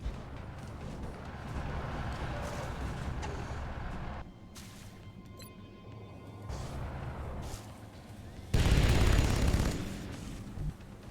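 Gunfire in the video game XCOM Long War, heard as a loud, broad burst near the end after quieter stretches of rumbling background noise.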